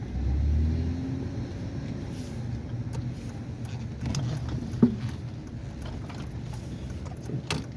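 A car passes on a retail street, its low engine rumble swelling and fading at moderate distance over steady background hum, with a brief bump partway through and no talk.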